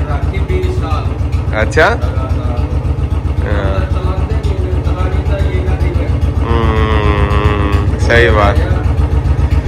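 A Royal Enfield Bullet motorcycle engine runs steadily at idle, its loud, even thump continuing throughout while people talk over it.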